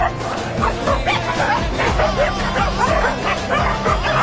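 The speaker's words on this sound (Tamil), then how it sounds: "கத்திக்கினே இருக்குதுங்க. செம்மையா எவ்வளவு நாய்ங்க அப்பா." Many street dogs bark and yip at once in a dense, continuous chorus, some high-pitched and whining, loud and close with no pauses.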